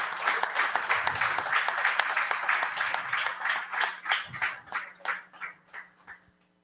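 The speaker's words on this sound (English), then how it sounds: "Please, an applause for them because they did hard work." Audience applause at a Plone Foundation membership meeting, a dense round of clapping that holds steady and then thins into scattered individual claps as it dies away.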